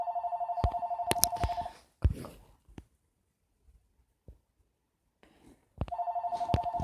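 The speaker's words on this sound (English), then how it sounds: "I'm sorry, guys, that's my phone ringing." A phone rings in repeated electronic trills at the start and again at the end, with clicks, taps and quiet shuffling in the gap between.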